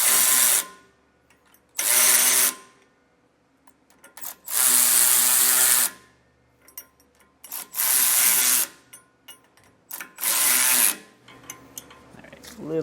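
A power tool snugs the U-bolt nuts on a Roadmaster Exact Center steering stabilizer being installed on a 2024 Jayco, running in five short, loud bursts of about a second each, separated by quiet pauses with faint handling noises.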